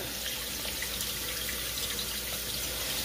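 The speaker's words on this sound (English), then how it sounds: "Really give it a good soaking, rinsing, get more impurities off of it" Sea moss being rinsed and soaked under running tap water in a sink, a steady close hiss of flowing water with light splashing throughout, no voices.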